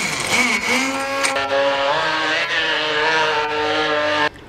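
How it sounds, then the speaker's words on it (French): Immersion blender whirs through peanuts and oil to make peanut butter, a loud close motor whine whose pitch wavers and climbs before cutting off abruptly at the end. "à l'aide d'un mixeur, pour ma part un mixeur plongeant, on va tout simplement mixer"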